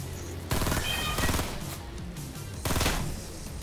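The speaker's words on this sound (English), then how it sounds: "Someone else shooting us." Gunfire in the Fortnite Air Royale mode comes in two loud automatic bursts, one near the start and another near the end, set against steady game ambience.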